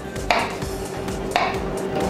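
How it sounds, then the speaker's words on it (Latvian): A knife cuts through warm cooked beetroot on a board, giving two distinct crisp chops about a second apart, close and clear without talk. "Griežam, kā jums viņš patīk griezt."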